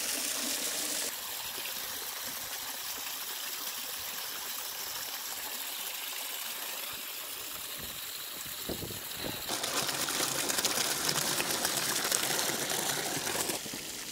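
Water pours steadily from the outlet hose of a battery-free solar irrigation pump, a continuous close splashing flow that swells louder in the last few seconds, with no voices.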